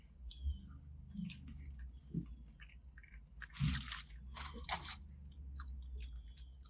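Someone bites into a Burger King fried fish fillet and chews it, giving soft crunches and moist squishing close to the ear, with quiet pauses between bites.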